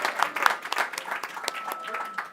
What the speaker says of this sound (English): Maybe let's just clap for her anyway